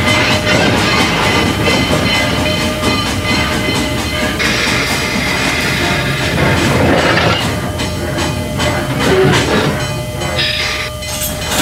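Loud continuous rumble of a train rolling along in the Trainz video game, with rhythmic clattering from the rails, running steadily throughout.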